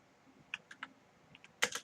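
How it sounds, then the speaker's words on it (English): Computer keyboard typing a short search query: a handful of separate, fairly quiet clicks followed by a louder closing burst of two or three keystrokes. "I'm going to type in"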